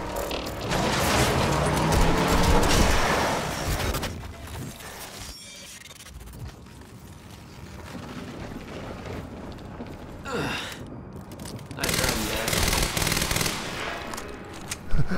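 Gunfire in the video game Quantum Break: loud, dense bursts of automatic fire and shots, fading to a quieter stretch, then another close, heavy barrage near the end.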